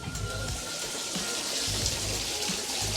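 Water pouring steadily into a pond at a volcano site in Japan, a continuous splashing rush that stays loud and close throughout, with no voices.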